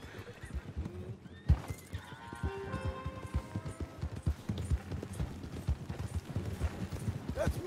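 Horse hooves clip-clop steadily in Red Dead Redemption 2, a busy run of close hoof strikes mixed with a horse's whinny, over background game sounds.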